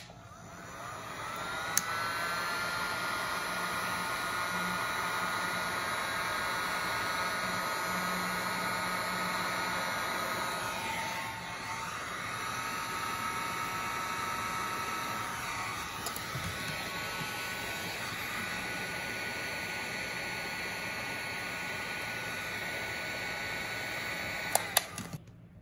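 A heat gun blows steadily on heat-shrink tubing over overlapping wire conductors on a solderless buzzboard glove finger, its continuous airy roar holding nearly unchanged for the whole stretch at moderate level, ending with a few faint clicks.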